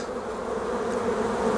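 Honeybees crawl over a brood frame in an allotment hive, giving a steady, close, moderately loud humming drone without pause or voices.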